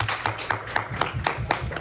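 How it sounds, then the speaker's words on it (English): An audience claps for Tori in a brisk, even rhythm of sharp hand claps, repeating steadily for under two seconds. "let's clap it up for Tori one more time"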